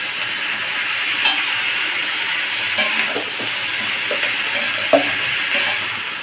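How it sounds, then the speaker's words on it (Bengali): Onion with chili powder and cumin powder sautéing in a pan, a steady close sizzle with a few scraping stirs of a spatula and light clinks throughout. "ভালো করে কষতে হবে বন্ধুরা।"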